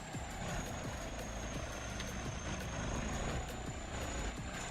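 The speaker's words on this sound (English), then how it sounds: "About to wreck my helicopter." Helicopter in Farming Simulator 25, a steady rotor and engine drone running evenly throughout with a sustained high whine above it, continuous and moderately loud.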